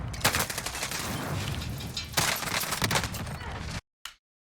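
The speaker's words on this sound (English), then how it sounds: "You can hear someone sniping above." Sniper fire and gun reports ring out above the player in the video game Warzone, a dense run of sharp cracks over constant noise that cuts off abruptly at the end.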